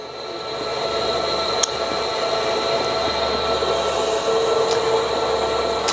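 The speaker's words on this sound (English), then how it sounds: "Just lining up on the runway, getting ready for takeoff" An Andover aircraft lines up on a runway in Somalia in 1993, heard as a loud, steady engine drone with broadband roar and a faint high whine, plus a few sharp clicks.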